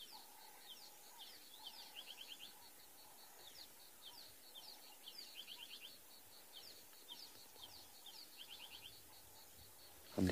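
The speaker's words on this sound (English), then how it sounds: "the different birds that start calling" Assorted birds calling and chirping at dusk on an African safari, a steady chorus of repeated tweets and trills spread over the whole stretch, fairly faint and distant, with no talking.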